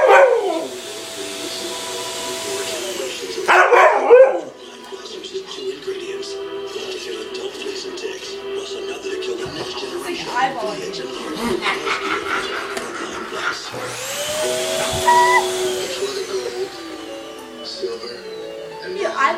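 A vacuum cleaner drones steadily while a dog barks, yips and whimpers at it, with bursts of barking near the start and again later as people talk over the hum.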